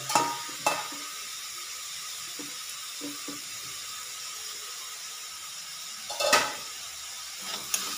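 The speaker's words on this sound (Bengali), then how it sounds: "দিয়ে একবার ভালো করে নাড়িয়ে নেব" Chopped capsicum frying in a pan with a steady soft sizzle throughout, stirred with a few scraping clatters at the start and a louder scrape near the end.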